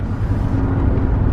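A 1991 Mercedes 350SDL cruising at about 45 mph, with a steady, loud low engine and road rumble running evenly throughout, close and continuous.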